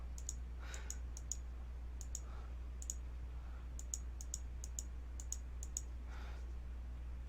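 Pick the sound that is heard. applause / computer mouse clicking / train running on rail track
computer mouse clicking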